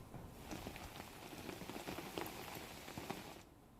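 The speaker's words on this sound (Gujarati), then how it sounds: "નવસારી જિલ્લામાં ભારે વરસાદનું આગમન થયું છે" Heavy rain patters steadily on surfaces in Navsari district, Gujarat, a dense crackling wash of drops that fades out near the end.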